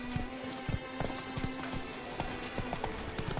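Horse hooves clip-clopping at a quick gallop, steady and close, from the mount Roach in a video game, with a faint ambient hum beneath the rhythmic beats.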